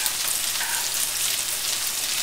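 Homemade marinara sauce bubbling and sizzling in a pan as it is stirred, a steady close hissing and crackling with no voices.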